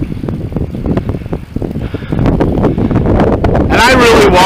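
Wind gusting across the microphone during a bicycle ride on a flat road, a steady rushing roar that grows louder and denser in the second half, with brief faint whistling tones near the end.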